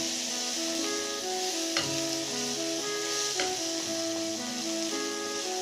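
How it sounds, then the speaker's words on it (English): Finely minced onion fries in sunflower oil in a pot, giving a soft, steady sizzle close by, with a few stirring knocks, beneath sustained background music tones. "I added about 2 tablespoons of sunflower oil, followed by 1 medium-sized onion that was finely minced"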